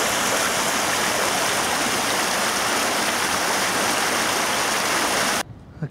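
The River Eden flows steadily, a broad continuous wash of running water heard close and loud with no voices, cutting off abruptly just before the end.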